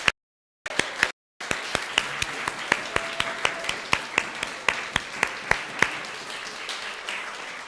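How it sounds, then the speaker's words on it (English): A church congregation claps, starting with a few scattered claps that grow into a steady round of applause, with individual sharp claps standing out clearly over the crowd. "we're going to applaud for the people that have helped"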